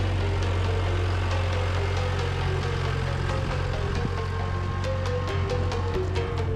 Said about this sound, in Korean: 조심스럽게 진입하는 트랙터